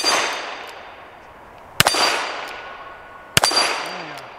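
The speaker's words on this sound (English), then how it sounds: "Let's try to see if we can hit our little hostage popper there." Two .38 Special wadcutter rounds strike a steel hostage popper target at an outdoor range, each a sharp metallic clang with a ringing decay, spaced about a second and a half apart.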